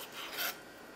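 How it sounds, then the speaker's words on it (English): Ginger root is peeled with a short, dry scraping rasp lasting about half a second, close and quiet, with no voices. "now I'm going to peel some ginger"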